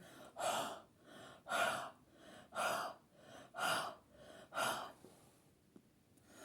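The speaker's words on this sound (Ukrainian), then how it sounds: "погріємо наші холодні ручки, дихаючи на них" Six slow, evenly spaced breathy exhales, close and soft, of someone blowing warm air onto cold cupped hands, with quiet pauses between.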